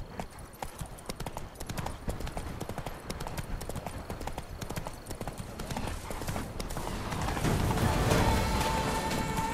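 Horse hooves gallop in a fast, steady clip-clop rhythm in The Witcher 3, loud and close throughout and growing slightly louder toward the end, with a brief voice heard over them.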